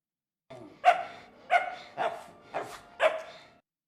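A dog barks five times in a steady rhythm, each bark sharp and clear at close range, with short silent gaps between them, in the Babadook horror film.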